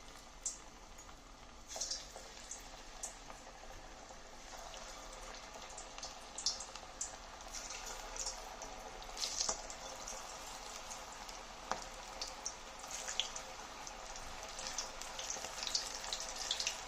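Cauliflower pieces for Gobi 65 deep frying in hot oil in a kadai, a steady crackling bubble with scattered sharp pops throughout, fairly faint and with no talk.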